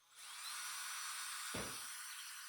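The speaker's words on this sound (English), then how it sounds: "Start by pre-drilling the hole for the anchor." A power drill whines steadily while pre-drilling a pilot hole in a ceiling for a mounting anchor, a close continuous buzz lasting about two seconds with a brief low thud midway.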